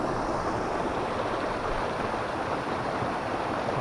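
The waterfall at Khuniya Mahadev near Pavagadh gives a steady, dense roar of rushing, falling water, continuous and fairly loud with no other sounds.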